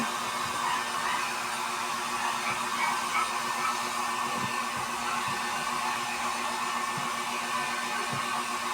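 A hair dryer blows continuously with a steady, loud airy whoosh and a faint motor hum, with a few soft knocks in the background.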